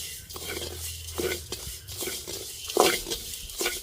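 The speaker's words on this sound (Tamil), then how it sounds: "கைவிடாமல் கிளறிக்கொண்டே இருப்போம்" Cumin, pepper and fenugreek dry-roasting in a pan while being stirred, repeated scraping strokes of a spoon against the pan in an uneven rhythm over a faint crackle, close by, no talking.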